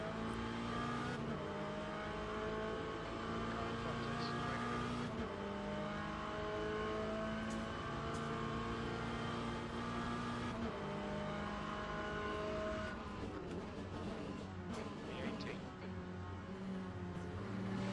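McLaren race car engines in the Le Mans Ultimate sim racing game, holding a steady loud whine through the gears with upshifts and a second car nearby, no talk.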